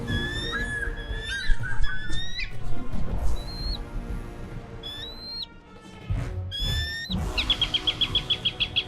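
Shrill, high-pitched eagle cries on a toy farm diorama come in repeated bursts over a busy background, ending in a rapid run of pulsing trilled calls.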